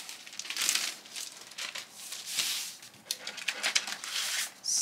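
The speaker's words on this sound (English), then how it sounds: "I'm gonna grab one of my plastic bags again." A plastic bag crinkles in several bursts of rustling at close range while screen print transfers are packed into orders, with no talking.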